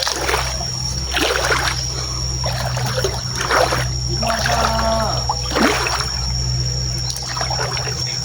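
Water sloshing and splashing in irregular bursts as people wade along a river upstream, fairly close, with faint background murmur.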